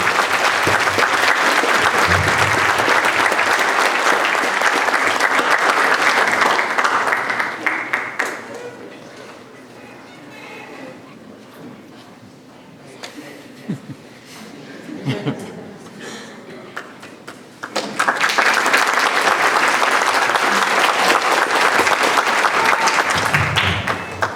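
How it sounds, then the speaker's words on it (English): An audience applauds a 7th grade middle school band at a school concert. The dense clapping is loud for about eight seconds, drops to scattered quieter claps with murmuring, then swells again near the end. "So I'd like to give them a round of applause."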